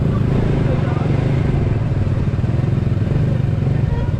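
A motorcycle engine drones steadily at close range, a low throbbing rumble with rattling clatter throughout, loud and continuous.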